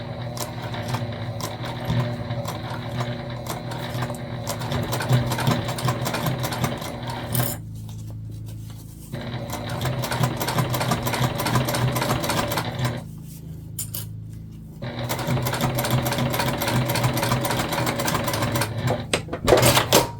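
A sewing machine stitches a small mini hip bag near its zipper tape, running in steady rapid mechanical bursts, pausing twice for short quiet gaps before starting again, close and clear with no talking.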